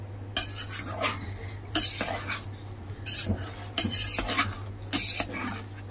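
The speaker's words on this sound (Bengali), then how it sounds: "এবার এতে আমি কিছুটা জল অ্যাড করছি।" A spoon stirs malai kofta mixture in a cooking pot after water is added, scraping and clinking in several distinct bursts over a steady low hum, close and fairly quiet.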